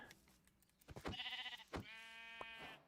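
A sheep in the Minecraft video game bleats twice, clear and up front, with a short click and a faint background tone between the cries.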